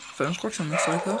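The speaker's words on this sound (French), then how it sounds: "c'est mon chien que je parle. Qu'est-ce qu'il aboie." A pet dog barks in short, repeated yaps close by, overlapping someone speaking French throughout.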